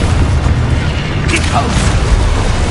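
A booming Expulso explosion spell blast in the Hogwarts Legacy video game: a loud, deep rumbling roar that fills the whole moment, with a brief crackling burst near the middle and dense combat noise throughout.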